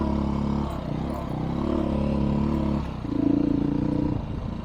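A dirt bike engine drones and revs steadily on a windy Colorado trail, loud and close with a rough, rising throttle toward the end and wind buffeting underneath.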